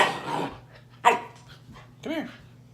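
A dog barks twice at close range, a sharp yap and then a longer, wavering bark, while someone talks nearby.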